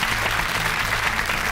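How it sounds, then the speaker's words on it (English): Studio audience at a TV quiz show applauding, a dense, even wall of clapping from many hands, loud and close, filling the whole short moment. "Huge round of applause for them because they did really terrifically well tonight."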